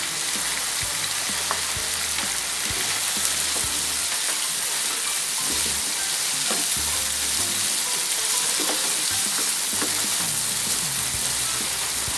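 Chayote sautéing in a pan gives off a dense, continuous sizzle and frying crackle, with occasional scrapes and clicks of stirring, close and loud throughout with no talking.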